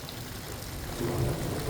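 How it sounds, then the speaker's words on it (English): Heavy rain and hail pour down in a thunderstorm, a steady dense wash of noise that swells slightly louder partway through, with no voices. "Look at all the water, all the rain, all the hailstones, all that."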